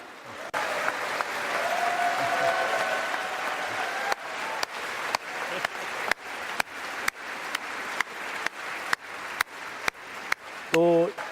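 Applause fills the US Congress chamber for Indian Prime Minister Modi's speech: a dense, sustained roar of many clapping hands, punctuated by a string of sharp, regularly spaced bursts toward the end.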